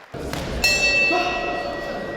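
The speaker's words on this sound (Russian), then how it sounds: "звучит первый гонг" A single metallic boxing ring gong strike rings out and hangs in the air, its bright tone slowly fading over a busy, noisy crowd at a boxing tournament in Grozny.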